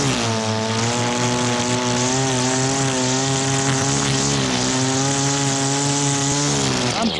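An Echo string trimmer engine, unused all winter, runs close by at high revs, a loud buzzing two-stroke whine that holds steady with slight dips in pitch, and no voices.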